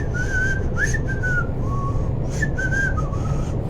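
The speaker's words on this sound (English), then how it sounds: "I actually breathe in when I whistle" A person whistles a short, wavering melody on breathed-in air, the faint tune floating over a heavy, steady low rumble.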